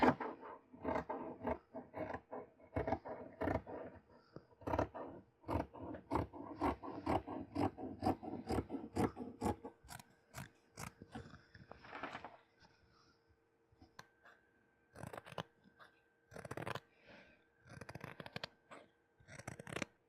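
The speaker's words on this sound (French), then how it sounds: "j'ai tracé sur mon tissu que je vais couper pour la partie polaire." Scissors cut through fleece fabric for the lining of a hooded scarf: a quick run of soft, rhythmic snips close by, then sparser, scattered cuts and handling rustle, all fairly quiet.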